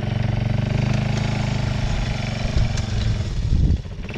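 A Kayo Bull 150 ATV engine revs and idles steadily up close, holding a rough, buzzing drone before surging louder near the end and then dropping back.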